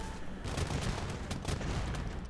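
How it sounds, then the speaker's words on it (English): Age of Empires bombard cannons firing in a real-time strategy game, a dense volley of sharp booming shots rattling off in quick irregular succession, loud and continuous. "12 bombard cannons."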